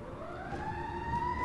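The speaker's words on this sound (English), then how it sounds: "there's sirens in the background" Faint distant sirens wail in the background, a rising tone gliding upward with a steady low hum of ambient noise beneath, no speech.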